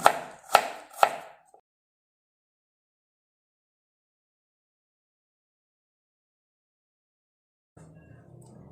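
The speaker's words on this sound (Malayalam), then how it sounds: "ഇനി ഇഞ്ചി നീളത്തിലരിയാം. കനം കുറച്ചരിക്കണേ." A knife slices ginger thinly lengthwise on a board in a home kitchen: three sharp, close chopping strokes in quick succession, then silence, with a faint low murmur of background noise near the end.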